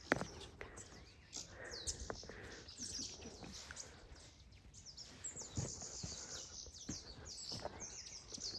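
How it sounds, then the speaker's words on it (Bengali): Numerous birds chirping and calling around Mulkharka Lake in the valley, overlapping high twitters and tweets spread over a faint outdoor background, moderately distant and fairly quiet, with no talk. "কত পাখি দেখো"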